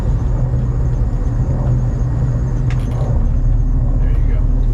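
A boat's engine runs in forward gear as the craft maneuvers near a marina, a loud, steady low rumble close by, with a voice talking over it.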